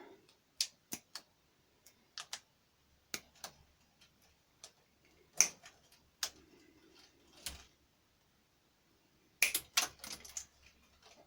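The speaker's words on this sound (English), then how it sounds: "So we'll just get our snips and trim it off." Snips trim the plastic overhang of drip rail trim on a first-generation Honda Civic, giving a series of sharp, separate clicking cuts spaced unevenly in a quiet setting.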